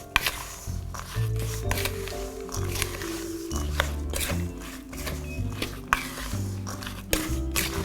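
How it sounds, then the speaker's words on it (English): A spoon stirs a thick, wet mix of homemade mincemeat laced with amaretto and brandy, giving continuous squelching, sticky churning at close range. "now you just need to give it a really good stir"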